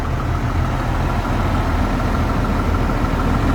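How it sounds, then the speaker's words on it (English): The diesel engine of a 2007 Newmar Ventana 3935 diesel pusher motorhome idles close by with a steady, loud, even low rumble that holds without change. "the engine's a little loud too."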